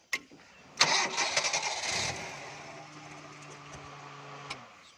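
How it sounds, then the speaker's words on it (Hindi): A car's self-starter cranks on a restored battery in a short, loud churning burst that fades into a steady motor hum with a tonal whine, heard close with no one talking. "किस तरीके से गाड़ी सलफ लगा रही है।"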